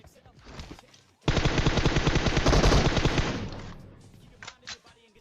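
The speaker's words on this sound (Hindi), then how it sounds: "मैं नीचे से 2-3 एकेएम की गोली चलाता हूं" AKM rifle fire in PUBG Mobile, a loud, rapid sustained burst of automatic shots lasting about two seconds, followed by a few scattered single reports.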